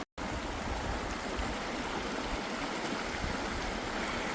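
Snowmelt water rushes down a mountainside near Bear Lake in Colorado, a loud, close, continuous broadband roar after a brief silent start, with no talking.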